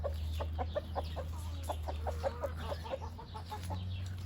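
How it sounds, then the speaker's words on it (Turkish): Chickens in a farmyard coop, including a blue rooster facing off with an Indian game rooster, cluck in a steady run of short calls, moderately distant over a constant low hum. "Evet bakın işte mavici horozum bu kalacak zaten"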